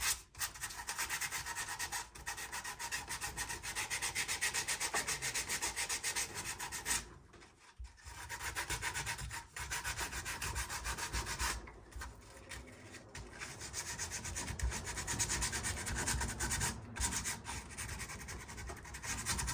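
Steady hand sanding of a trail camera housing, a continuous dry rubbing rasp with brief pauses around the middle, close and alone without talk.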